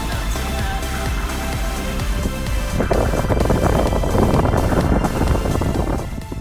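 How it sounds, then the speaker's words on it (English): Strong wind roars and buffets around a sailboat crossing the Bay of Biscay, loud and continuous, with rushing water and surging gusts rising toward the end. "it's kind of noisy outside with all the wind flying around"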